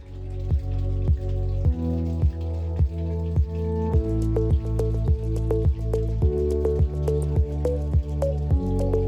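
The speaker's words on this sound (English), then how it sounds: "Allow about half a bucket of water to flow." Water spurts from a filter sample port into a bucket in a dripping, splashing rhythm of repeated plops, steady and close with no talk.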